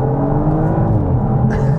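An Audi RS5 Performance accelerating at full throttle, its engine a loud, continuous, close roar that holds steady throughout, with no speech.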